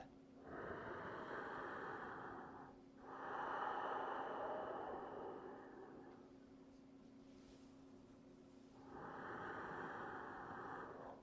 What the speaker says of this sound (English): And I start with my ujjayi breath.